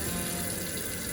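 Hot water runs from a tap into a sink for washing dishes in a food lab, a loud steady gushing stream heard close up with no talking.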